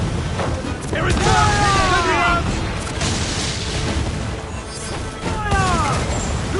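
Heavy naval cannon fire and crashing impacts in a pirate ship battle in Assassin's Creed IV: Black Flag, with loud continuous booms, rumbling blasts and whistling projectiles, under crew members shouting throughout.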